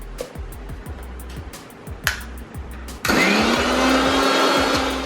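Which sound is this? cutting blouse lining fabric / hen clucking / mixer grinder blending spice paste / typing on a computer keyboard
mixer grinder blending spice paste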